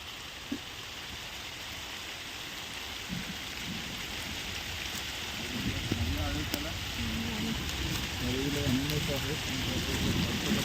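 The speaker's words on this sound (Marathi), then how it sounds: "चला पाऊस आला, परत जाऊया आपण." Steady rain patters down across a Konkan mango orchard in the first monsoon shower, a continuous even hiss throughout, with faint voices surfacing in the later part.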